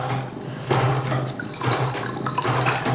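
Hands are washed in a bowl of water with a cloth, giving continuous sloshing and splashing with a steady low hum underneath, close by.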